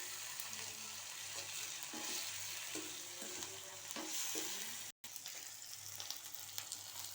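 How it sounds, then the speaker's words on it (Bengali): Ginger-garlic paste frying and sizzling in a pan as it is stirred, a steady close hiss with intermittent scraping strokes and one brief dropout. "এবার আমি এতে আদা রসুন পেস্ট করে রেখেছি সেইটাকে দিয়ে দিলাম, দিয়ে একটু ভাজবো"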